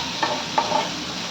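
Onion and capsicum sauté in a pan for noodles, giving a brief, even sizzling hiss with two quick scraping stirs of a spatula, close and fairly loud, with no voices.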